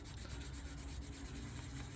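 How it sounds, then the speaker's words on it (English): Close, steady rasping of sandpaper rubbed by hand over a wood-turned goblet's captive rings, a soft continuous scratchy friction with no voices. "I'm manually going to sand that ridge off to make them nice round rings."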